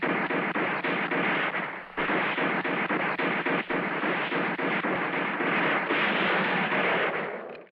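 Gunfire from a Brazilian guerrilla war film crackles in long dense volleys of rapid shots, loud and continuous, with only brief gaps before fading at the end.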